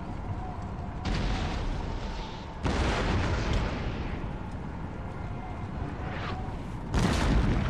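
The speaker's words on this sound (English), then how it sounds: "And we're going to want to keep firing in this direction with the cannons." Cannon artillery fire in the Napoleonic-era strategy game Empire: Total War, heavy booming blasts at intervals that roll into long rumbling battlefield noise, loud and close with no talk.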